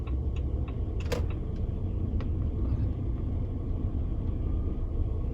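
A Jeep Compass parks itself automatically, its idling engine a low, steady rumble close by, broken by a single sharp click and a few faint ticks, with no voices.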